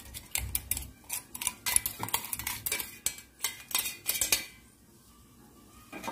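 Ground peanuts being stirred into soaked sabudana for fasting khichdi, a spoon scraping and clinking against the bowl in a quick irregular run of close taps and scrapes, then a quiet pause near the end.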